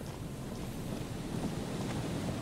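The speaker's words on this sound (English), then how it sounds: "Oh, it's getting windy." Wind gusts through the video game Disco Elysium, a steady, rushing whoosh with a low rumble underneath, moderately loud and alone without speech.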